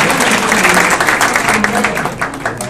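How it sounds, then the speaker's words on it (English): A seated audience at a Future Business Leaders of America event bursts into dense, sustained applause, many hands clapping loudly and evenly throughout. "Give him a round of"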